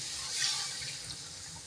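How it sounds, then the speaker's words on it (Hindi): Water poured into a pan of frying masala for a chicken and potato curry gives a steady, close hissing splash that swells and then evens out over a couple of seconds, with no voices over it. "हम इसके अंदर पानी डालूँगी"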